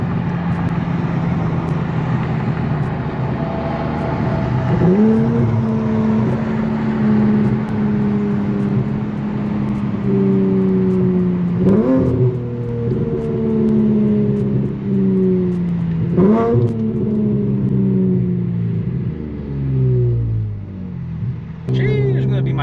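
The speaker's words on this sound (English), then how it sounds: "Let's hear some VQ downshifts." A Nissan VQ V6 engine in an Infiniti Q50 with a flame tune cruises with a steady low drone, then several sharp downshifts blip the revs upward in quick bursts, each settling back down.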